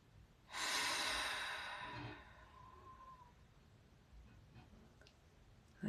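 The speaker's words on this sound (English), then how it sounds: "Let's all just take a collective moment of silence and take in a deep breath." A group draws one long, deep breath together: a loud, airy rush that swells quickly, holds for about a second and a half, then tapers off into quiet room tone.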